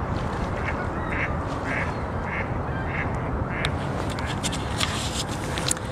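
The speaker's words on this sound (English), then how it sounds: "Male and female duckies." Male and female ducks quack repeatedly in an uneven rhythm, nearby and clear over a constant rumble of background noise.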